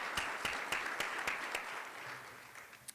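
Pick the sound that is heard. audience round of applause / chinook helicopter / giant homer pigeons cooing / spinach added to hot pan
audience round of applause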